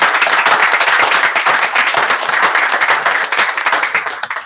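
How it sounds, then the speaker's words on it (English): An audience at a committee meeting gives a round of applause, dense close clapping that holds steady and then thins out toward the end. "let's give them a round of applause"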